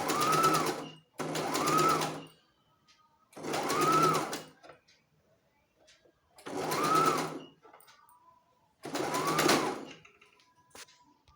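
A sewing machine stitching a baby frock, running in five separate bursts of rapid mechanical whirring with short quiet pauses between them, close and clear with no talking.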